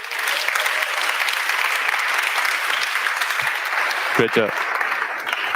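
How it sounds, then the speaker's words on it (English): Steady, dense applause from an audience at a startup pitch competition final, filling the whole stretch for Team Alpubel; a brief spoken remark rises over the clapping near the end. "please applaud Team Alpubel."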